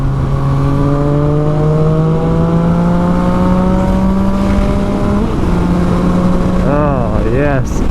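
A dyno-tuned motorcycle engine with a freshly flashed ECU runs loud and steady, its droning harmonic tone holding level before rising and falling in quick throttle blips near the end, with a voice talking over it.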